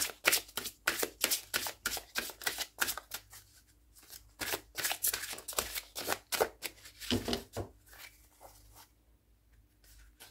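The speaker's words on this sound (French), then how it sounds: "on va prendre une carte, l'oracle des sortilèges" Oracle des sortilèges cards are shuffled and handled close up, giving rapid papery riffles and slaps in bursts, with a few brief pauses between them.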